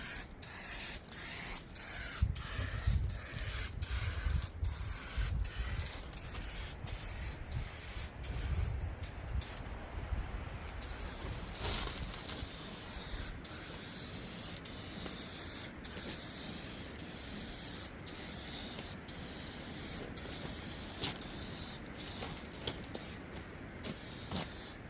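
Turbo aerosol cans spray paint onto a 1955 Chevy, a steady loud hiss running throughout with rapid rattling clicks early on and brief pauses, close by.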